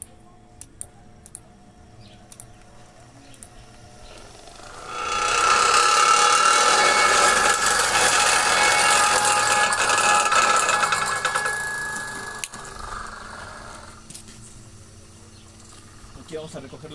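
A small, simple machine that turns recycled PET bottles into fibre starts up after a quiet moment, then whirs with a loud, bright rasping hum for several seconds before winding down, with faint speech around it.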